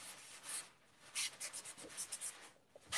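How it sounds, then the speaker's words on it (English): Paper towel wiping wet paint off a landscape painting's sky, a series of soft close rubbing strokes in quick uneven bursts, faint and dry-sounding with short pauses between. "come back in with my paper towel and explore what I can do with lightening some values in the sky just with wiping"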